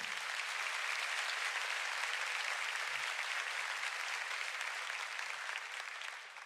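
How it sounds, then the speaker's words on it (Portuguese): Steady, dense applause from a large church congregation, sustained throughout and tapering slightly at the very end. "Você pode aplaudir ao Senhor."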